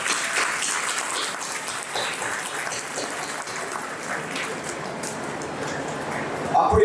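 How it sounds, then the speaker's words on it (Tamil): An audience at a school Independence Day award ceremony claps in honour of the school's founders, a broad sustained wash of applause with a voice speaking over it. "பெரியவர்களுக்கு நாம் கரகோஷம் கொடுத்து"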